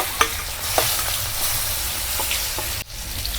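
Asafoetida, turmeric, chopped ginger and chillies frying in hot oil, a steady close sizzle with a few soft clinks and stirring scrapes, with no voices.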